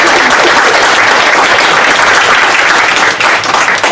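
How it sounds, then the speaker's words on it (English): Audience applause at an educational justice panel event, steady dense clapping from a crowd filling the room at full loudness throughout, easing slightly near the end. "You can give them a clap for that."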